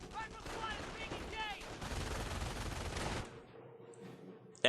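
An MG42 machine gun firing in the game Company of Heroes, dense rapid bursts of gunfire under game voices, running steadily for about three seconds before cutting off into quieter background with a sharp hit at the end.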